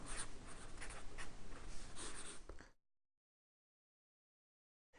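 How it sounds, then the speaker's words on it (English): A pen scratches steadily across paper, close and clear, as a monster drawing's name is written, then stops abruptly into silence. "we could write his name, Icky Doo Dah"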